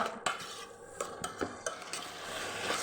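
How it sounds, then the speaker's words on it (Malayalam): A spoon stirs sabzi in a cooking pan, giving soft scraping strokes and light metallic clicks over a faint sizzle, quiet and close with no voices. "ഒന്ന് ഇളക്കുക"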